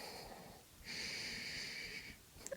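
A slow, deep breath during a twisting yoga pose is drawn in with a faint, airy wheeze, then released, soft and close in a quiet room.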